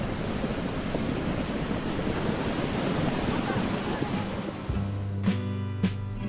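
Waterfall in a Cherrapunji forest in Meghalaya during the pre-monsoon season, heard as a steady, loud broadband roar of falling water. Near the end, brief wind buffeting and a low hum break in over it.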